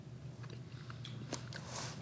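Crunchy, stale Sour Patch Kids cereal being chewed close up, a quiet run of crisp bites and crackly crunches building in the second half.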